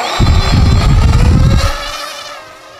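Small electric motors of a radio-controlled aeroplane built from a fast-food bucket, spinning as a Magnus-effect rotor, give a loud, steady buzzing whine that holds for about a second and a half and then fades away.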